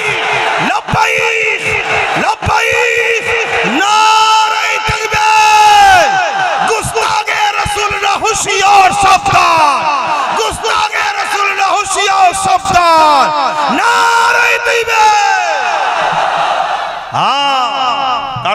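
A large crowd at a Bengali Islamic waz gathering chants "Labbaik ya Rasulullah" in reply to the preacher, with loud massed voices rising in repeated phrases and a strong leading voice over booming, echoing sound.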